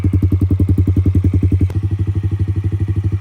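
Yamaha TTR50 pit bike engine idling steadily after a top-end rebuild, a close, loud, rapid thumping single-cylinder beat with a brief clank partway through, no talk.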